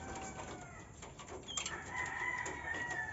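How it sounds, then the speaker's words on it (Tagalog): A pure red junglefowl (labuyo) rooster crows at a distance in a rural Laguna setting, one faint drawn-out call rising over soft ambient noise and other bird sounds. "Ito mga purong labuyo."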